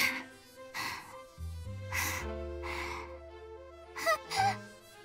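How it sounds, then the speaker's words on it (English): Labored, pained breathing from a character in the Fate/Hollow Ataraxia visual novel, set in a stone room: repeated gasping breaths and sighs, fairly close and soft, over a faint tonal music bed. "That's some labored breathing I'm hearing here."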